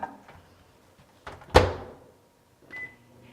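A microwave oven door clicks shut with a sharp thump, followed by a short beep and a soft hum starting, close and quiet otherwise.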